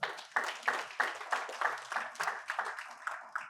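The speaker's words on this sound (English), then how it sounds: "I think this deserves a round of applause" Clapping at an annual lecture on tax reform falls into a regular rhythm of about three beats per second, each burst sharp and close, like a small crowd clapping in unison.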